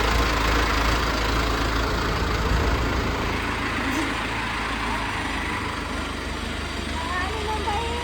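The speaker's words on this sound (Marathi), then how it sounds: "हे अर्जुनचं ट्रॅक्टर आपल्या गावातलं." A tractor engine idles nearby with a steady, low diesel rumble that holds constant throughout, while people talk over it.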